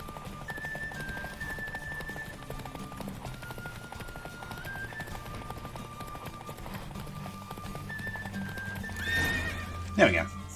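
Horse hooves galloping with steady clip-clop in The Witcher 3, under game music and voiced dialogue, ending with a loud, close whinny near the finish.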